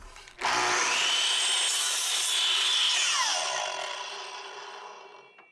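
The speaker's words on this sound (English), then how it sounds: "I gave that a cut with the compound miter saw" A compound miter saw spins up and bites through a wooden dowel in one steady cut, loud and close, then winds down and fades.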